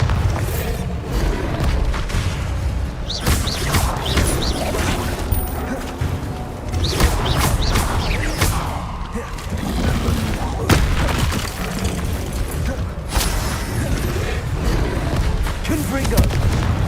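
Repeated Bombarda spell blasts in Hogwarts Legacy, a series of loud booming explosions with crashing debris, fired at an irregular rhythm across the whole stretch with a voice speaking in between.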